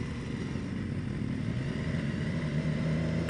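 A 2018 BMW S 1000 XR motorcycle downshifts and its engine blips to rev-match. The note is a low, rough, throbbing drone with slight pitch shifts, heard steadily from the rider's position with no talk.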